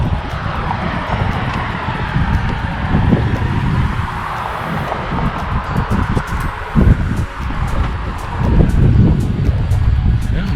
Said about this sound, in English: Yeah, there's some wind.